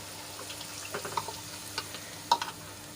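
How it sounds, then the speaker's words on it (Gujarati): Garlic frying in oil for Kathiyawadi garlic curry, with paste being added, gives a faint, steady sizzle broken by scattered soft scrapes and taps of stirring, including one sharper clink near the end. "આપણું લસણ સરસ રીતે તેલમાં સંતળાઈ ગયું છે"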